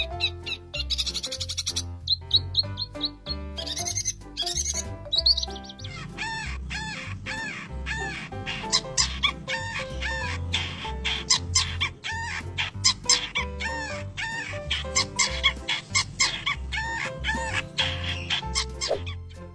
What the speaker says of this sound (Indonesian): Cendet merupakan salah satu burung yang dapat memiliki variasi isian suara cukup banyak